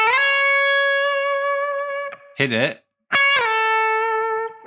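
Heavily distorted electric guitar plays sustained notes bent up two tones in a lesson on a guitar solo, with a brief noisy break and a short spoken cue between loud, ringing phrases.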